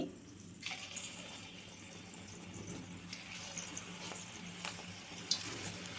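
Pakoras sizzle in hot oil over a medium flame, a steady faint bubbling hiss with small crackles throughout.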